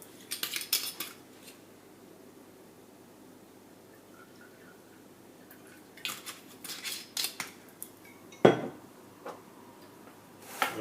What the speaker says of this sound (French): on va bien mélanger jusqu'à obtenir une texture bien homogène